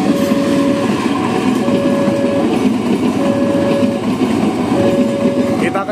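A special extraordinary train passes a small station in Indonesia, making a steady, loud rolling rumble with rhythmic clicking of wheels. Repeated long horn tones sound at regular intervals throughout.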